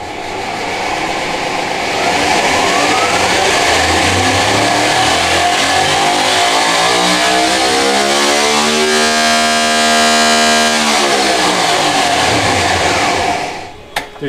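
A high-revving streetcar engine with a new cam, likely an LS, screams on a dyno toward roughly 9,250 to 10,000 RPM, its loud roar climbing steadily in pitch, holding near the top, then cutting off at the end.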